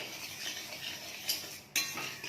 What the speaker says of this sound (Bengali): ডালিয়াটা ভাজছে,